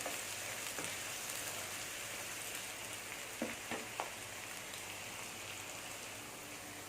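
Onions and small green chillies sizzle in hot oil for hotel-style prawn biryani, a steady crackling hiss throughout with a few brief stirring knocks near the middle, no talk.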